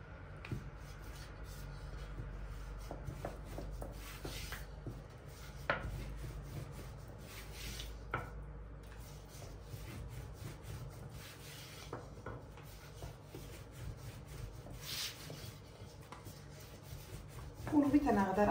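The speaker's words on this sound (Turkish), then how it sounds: "kenardan incesine kadar açalım." Thin Turkish yufka dough is rolled out with a rolling pin on a floured surface, giving soft steady rubbing and rolling sounds with a few light taps, close and quiet, with a louder bump near the end.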